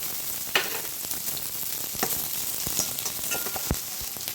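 Onion, mustard seeds, dal and curry leaves fry in hot oil for a cabbage poriyal, giving a steady close sizzle broken by a few sharp pops and spoon scrapes.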